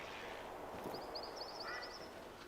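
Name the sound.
duck calling in theHunter: Call of the Wild video game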